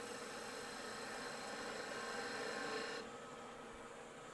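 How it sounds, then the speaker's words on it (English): Spindle gouge shearing across spinning wood on a lathe while shaping a Christmas ornament, a steady close rasping hiss that holds evenly for about three seconds, then drops to a quieter whir as the cut lifts off. "let's just round this over. Using the spindle gouge now"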